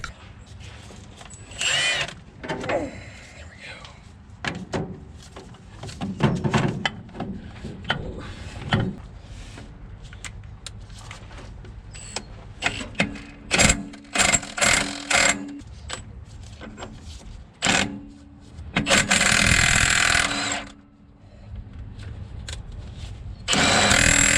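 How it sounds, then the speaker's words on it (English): An impact gun works up under the radiator area of a 1984 Dodge Ram, firing in short, loud, rattling bursts between quieter stretches of shop noise and handling. "I'll lay underneath it and reach up through with the impact gun."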